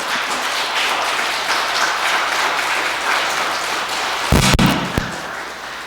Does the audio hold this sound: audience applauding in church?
yes